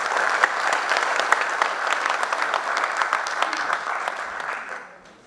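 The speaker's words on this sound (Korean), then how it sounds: "여러분 박수로 보내주십시오." Audience applause at the founding general meeting of a Korean blockchain business association, sustained clapping from a seated crowd that holds steady and then fades out over the last second.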